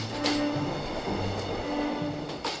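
A passenger train climbs a steep mountain switchback line and pauses at Heungjeon Station, giving a steady rumbling roll with low droning tones, continuous and fairly close, with no talking.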